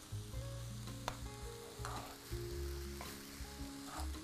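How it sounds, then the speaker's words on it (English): Chili, curry leaves, bay leaf and spices sizzle steadily in a hot pan for apple chutney, with a few soft scrapes and clicks from a spoon stirring through, close and alone. "we are also going to be adding in some chili and some curry leaves. And we'll just give that all a nice stir."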